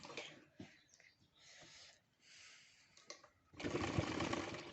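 A sewing machine stitches a lace border onto a sweetheart neckline in short, faint stop-start runs of whirring, ending in a louder, steadier burst of stitching.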